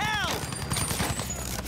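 Gunfire from behind in Battlefield 1, a rapid string of evenly spaced shots rattling like a machine gun, moderately distant, with a faint whistling tone at the start and talk over it.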